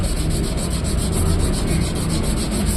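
Steady abrasive rubbing as rust is scrubbed off a motorcycle brake rotor disc, a continuous close scraping with a faint repeating stroke rhythm and no talking.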